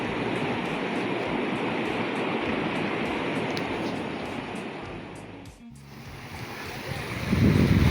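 Steady rushing of the Narmada River's clear flowing water, broad and continuous, with a brief dip near the end before a louder low rumble swells.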